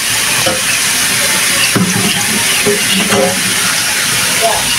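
Sliced pointed gourd and potato dropped into hot oil left from frying onions and dried chili, sizzling steadily and loudly with a few clattering stirs.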